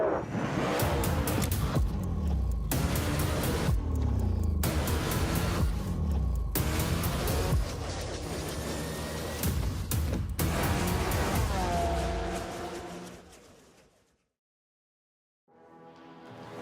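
Race cars roaring past at the finish of an Atlanta race, loud droning engines with rising and falling pitch and abrupt breaks, fading away to silence near the end before a brief return.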